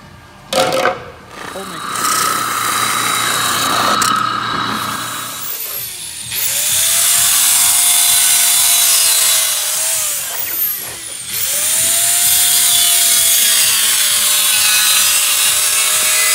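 A power tool grinds and saws wood out of a carbon fiber mold, loud sustained rasping with a rising whine that stops briefly and then starts again, close by, following a short burst of handling noise.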